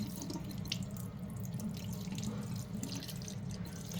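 Tap water runs in a steady stream as a snake plant cutting is rinsed under it, splashing continuously and close by.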